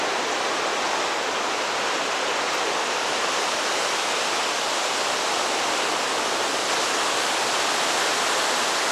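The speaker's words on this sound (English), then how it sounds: "Waves, birds, beach." Ocean waves washing onto a beach at Pacific Rim National Park, a steady broadband roar of surf that stays loud and even throughout with no distinct breaks between waves.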